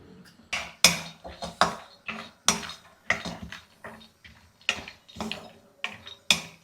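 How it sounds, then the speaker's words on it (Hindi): Nuts dry-roasting in a metal kadhai rattle and clink as they are stirred, sharp repeated taps in an uneven rhythm roughly every half second, close and clear with no talking. "तो सबसे पहले हम अपने नट्स को डाल देते हैं कढ़ाई में ड्राई रोस्ट करने के लिए।"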